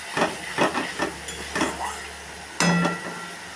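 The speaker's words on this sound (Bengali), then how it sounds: "মশলাটা কষানো হচ্ছে" Spice paste sautés in a pan for a Bengali dish, giving short bursts of sizzling hiss and a few scraping stirs, ending with one louder, longer sizzle.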